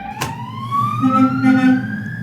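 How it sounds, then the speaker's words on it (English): An ambulance siren wails loudly with a rising, sweeping tone as the vehicle passes close by. "there was an ambulance passing by"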